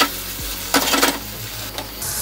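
Chicken livers fry with onion in a pan, giving a steady close sizzle broken by a few louder bursts of stirring and scraping, with no voices.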